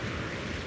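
Ocean waves on a beach in the morning make a brief, continuous broadband wash of surf, fairly loud and steady with no talk.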